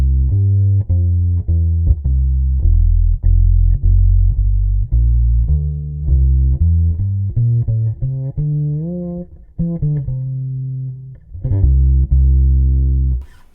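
Upright bass amplified through a David Gage pickup, a steady run of deep plucked notes, close and prominent, with clear attacks and a brief pause near the ten-second mark.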